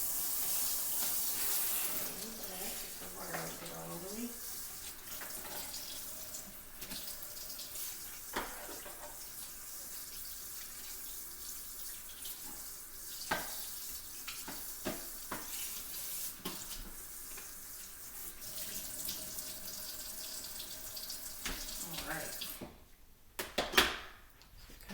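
Running tap water splashes steadily into a sink while a heavy crockpot is washed, with occasional knocks and clunks of the pot against the basin before the flow stops near the end.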